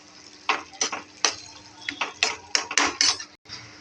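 Egg whites are stirred in a pan with a utensil, giving about a dozen sharp, close metallic scrapes and clinks in an irregular rhythm over a faint background. Nobody speaks.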